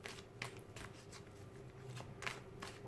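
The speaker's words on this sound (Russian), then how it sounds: "Пока я мешаю карты" Tarot cards are shuffled by hand, giving quiet, soft riffles and a few sharper flicking snaps at irregular intervals.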